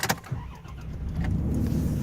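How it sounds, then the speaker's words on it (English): A truck's engine cranks and catches, settling into a steady low idle that runs on alone after a few sharp clicks and knocks at the start. "Let me get this truck started."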